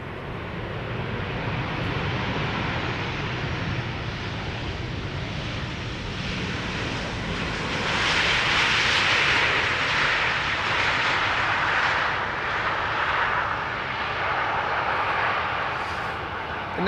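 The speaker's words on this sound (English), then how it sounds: "This is Transavia, flight 6916, returning from Olbia." A Transavia jet arriving at Amsterdam Schiphol produces a steady engine rumble that grows into a brighter, louder roar midway as it passes, then slowly recedes, with no voices.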